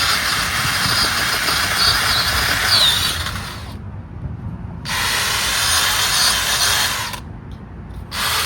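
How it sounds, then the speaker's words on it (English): A power auger drills planting holes in garden soil for a new rose, its loud motor whining in two long bursts with short pauses between, close to the microphone. "I just get this out, use my auger, and voila, it is done."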